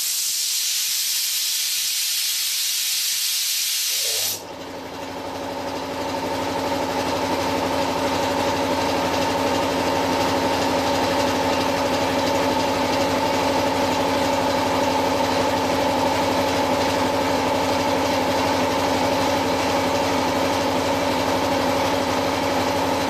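An air compressor kicks on beside a Cut 50 plasma cutter, starting after a few seconds of hiss and then running as a loud, steady, close motor drone with a humming tone for the rest of the clip, with no talking.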